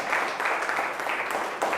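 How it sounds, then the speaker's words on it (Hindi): Applause from a church congregation welcoming the worship leader, a steady broadband wash of clapping that stays loud and even throughout with no voices on top. "जोरदार ताली से कमान ऊंची आवाज में उसको खुदावंद यीशु मसीह को स्वागत करें"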